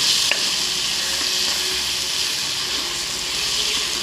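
Broad beans and tomato frying in a pan as they are stirred, a steady close sizzle running throughout with faint scraping, no voices.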